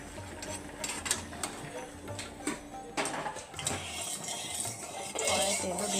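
Boiled jackfruit tipped out of a covered pan, with metallic pot and utensil clatter and a few sharp knocks over several seconds, fairly quiet and close, no talking.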